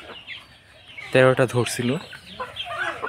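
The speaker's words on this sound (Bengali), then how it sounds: "এই যে দেখুন, এখানে কিছু মুরগি" Native chickens cluck loudly and close by in a short cluster of calls, and someone speaks over and around them.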